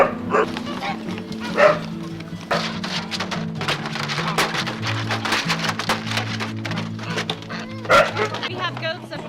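Several dogs bark with repeated woofs and yips on a farm where goats are kept with sheep, under steady rain, while people talk nearby.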